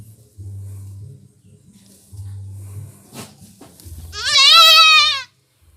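A goat having its eye treated gives one loud, wavering bleat near the end, preceded by low rumbling and faint handling noise close by.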